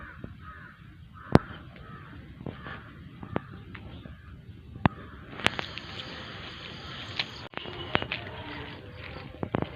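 Crows caw repeatedly outdoors in a Kerala village, a series of harsh calls over faint rustling and sharp clicks, with a thin high buzz of insects joining midway.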